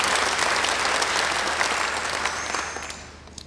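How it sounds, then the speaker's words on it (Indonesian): A church congregation applauding during a sermon: a loud, dense roar of many hands clapping at once, sustained evenly and then tapering slightly near the end. "Beri tepuk tangan yang baik."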